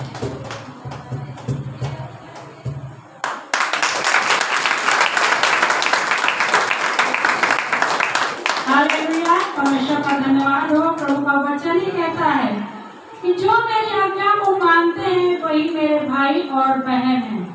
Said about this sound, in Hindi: हम लोग प्रभु के लिए ताली बजाएं